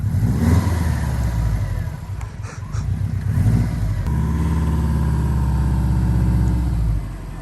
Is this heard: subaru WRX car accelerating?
yes